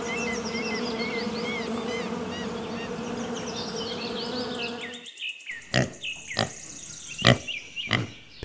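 A bee buzzes in a steady, dense drone that fills the first five seconds, then gives way to a series of short, sharp bursts, loud and close with no talk.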